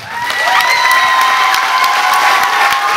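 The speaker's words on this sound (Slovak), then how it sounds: "Velký potlesk" Loud, sustained applause and cheering from a crowd at a dance event in Močenok, building quickly and holding steady, with a few high whistles or shouts over the clapping.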